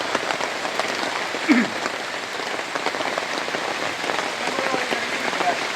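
Heavy monsoon rain falls steadily in flood-hit Kavanur, a dense, even hiss of drops on surfaces that holds at a moderate level throughout, with no talking.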